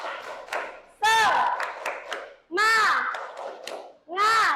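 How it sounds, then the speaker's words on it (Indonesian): A school class performs a rhythmic spirit clap routine, bursts of clapping and chanted shouts coming in three or four energetic blocks with brief pauses between, voices loud and close. "Kalau sudah kita tepuk semangat dulu. Tepuk semangat."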